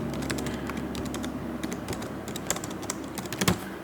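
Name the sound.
typing on a computer keyboard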